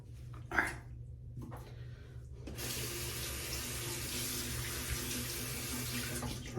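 After a few soft clicks and near silence, a tap is turned on for shaving and runs as a steady, loud, close hiss of water until the end.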